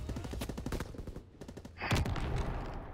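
Gunfire in the World War II shooter Call of Duty: WW2 during an online match, with quick bursts of rapid shots followed by a heavier blast and rumble, fairly quiet and without talk.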